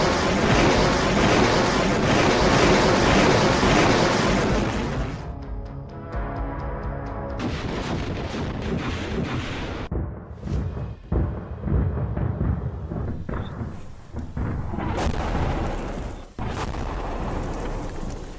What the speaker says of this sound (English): the Grad launches a full salvo and completes the fire mission